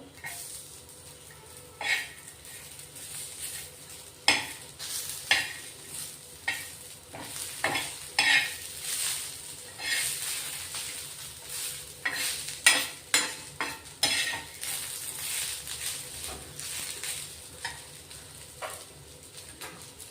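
Garlic cloves and ginger pieces roast in a pan, with repeated spatula stirs and scrapes clacking at an uneven rhythm over a steady, quiet sizzle close by.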